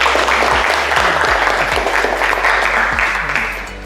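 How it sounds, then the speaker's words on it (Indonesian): A classroom of automotive engineering students claps for all the groups, a dense, loud burst of applause that holds steady and then fades near the end, with a low mains hum underneath. "sekarang tepuk tangan untuk semua kelompok"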